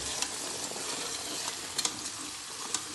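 Carrots and other vegetables fry together in a pan for fried rice, making a faint, even hiss of sizzling with a few light stirring taps.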